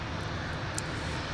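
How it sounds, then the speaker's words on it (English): An Embraer jet rolls out along the runway at MSP airport, a steady, broad engine roar heard from a distance with no break or build over the short stretch. "the Embraer rolling out at the exit at the runway"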